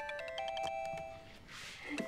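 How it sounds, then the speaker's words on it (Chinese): A phone rings at home with a repeating electronic ringtone melody, steady and fairly clear, ending as the call is picked up. "接个电话。"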